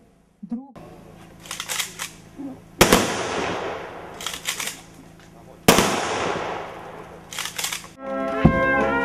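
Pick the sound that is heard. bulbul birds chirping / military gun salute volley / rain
military gun salute volley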